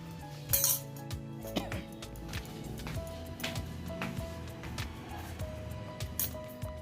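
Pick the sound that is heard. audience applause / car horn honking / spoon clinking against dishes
spoon clinking against dishes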